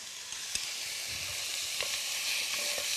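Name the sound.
beef stir-frying with potatoes in a pan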